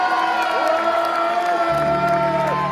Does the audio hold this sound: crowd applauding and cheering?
yes